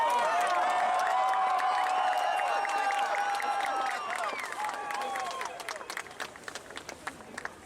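A large rally crowd on the National Mall in Washington DC applauds and cheers, a loud dense roar of clapping and whoops that gradually thins into scattered claps.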